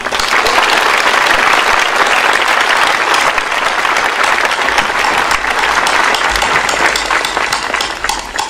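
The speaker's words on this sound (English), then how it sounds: "Let's give them another round of applause." An audience at a high school JROTC commissioning applauds the Quantico Marine Corps Band, loud dense clapping sustained evenly throughout with no talking.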